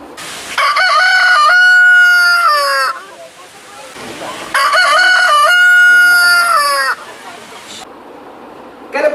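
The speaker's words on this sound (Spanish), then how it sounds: "Ahora vamos a escuchar el sonido del gallo real." A real rooster crows twice, each long crow loud and close and followed by a short gap, with faint background noise between the calls.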